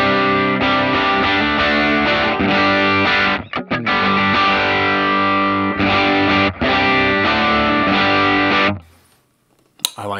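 An electric guitar played through the Line 6 Helix Ventoux amp model with a C12Q cab gives loud, distorted sustained chords with brief pauses, ringing out close before cutting to near silence at the end.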